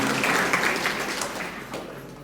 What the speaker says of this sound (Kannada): ಎಲ್ಲರೂ ಚಪ್ಪಾಳೆ ಹೊಡೆದ್ರು